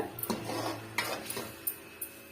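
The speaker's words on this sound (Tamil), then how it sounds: "நல்லா இது போல மிக்ஸ் பண்ணி விட்டுக்குங்க" A utensil scrapes and clinks against a pan while stirring chicken masala, in a few irregular strokes, with a soft cooking hiss underneath, fairly quiet and close.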